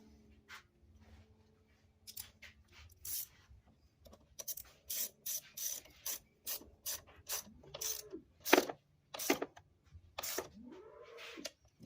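An 8mm ratchet tightens a car battery terminal on a Ford Escape in short, sharp clicking bursts separated by pauses, close up, with a cat meowing a couple of times nearby.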